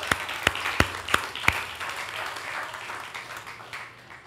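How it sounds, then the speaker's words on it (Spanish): Congregation applauding during a Thanksgiving church service, opening with several sharp, loud claps in a steady rhythm before settling into a softer, continuous wash of clapping that fades toward the end. "Dale un aplauso al Señor."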